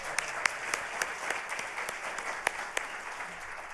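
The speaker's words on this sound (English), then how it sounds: "this is the time you need to applaud" A conference audience applauds a staff member who stands, a steady close wash of clapping with sharp individual claps poking through for the whole stretch.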